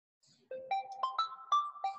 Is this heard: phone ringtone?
yes